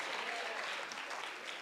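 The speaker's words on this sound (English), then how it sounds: "big round of applause for all of our students here who are up here tonight" Applause for fifth grade students at a school graduation ceremony, a steady, dense wash of clapping from a crowd, heard from some distance and fairly soft throughout.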